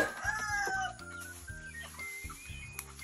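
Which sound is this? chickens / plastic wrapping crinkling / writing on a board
chickens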